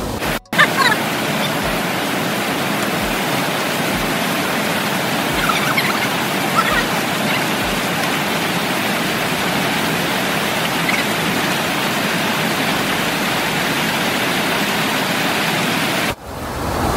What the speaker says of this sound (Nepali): यो बेस्ट वाटरफलको निर चाहिँ एकदम धेरै पानी आयो